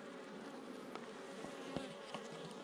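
A honey bee colony buzzing inside a hive, a dense, steady hum of many bees close by, with a few faint clicks and taps over it, fairly quiet and without speech.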